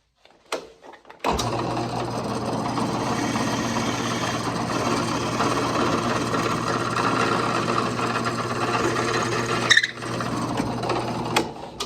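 A power drill boring tuner holes through the back of a wooden guitar neck, making a steady, loud, close-up whine with a low hum that runs unbroken for about nine seconds before cutting off.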